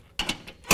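A socket wrench ratchets on bolts holding the muffler of a Polaris RZR 1000 side-by-side during a turbo install, a few short mechanical clicks close by in a brief burst.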